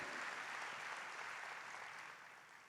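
A church congregation claps together in a steady wash of applause that holds even throughout, then eases slightly toward the end, heard with no voices over it.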